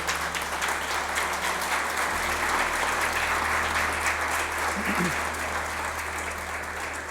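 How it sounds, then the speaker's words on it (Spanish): A church congregation gives a loud, sustained round of applause during a Sunday-morning service, with dense, even clapping filling the whole stretch and a voice faintly underneath. "¿Por qué le das un fuerte aplauso a Dios en esta mañana?"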